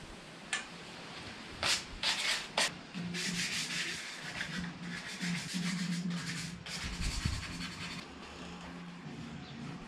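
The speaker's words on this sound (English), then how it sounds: "just giving a quick scrub down with some 300" A steel chassis on a Toyota FJ40 is scrubbed by hand with 300-grit abrasive, giving close, loud rasping strokes: a few short sharp bursts first, then a long sustained stretch of scraping that fades near the end.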